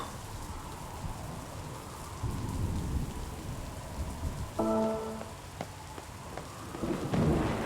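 Steady rain pours down during a thunderstorm in Nier Reincarnation, with low rolling thunder rumbles swelling in and out under the constant hiss of falling water and a brief chime-like tone midway.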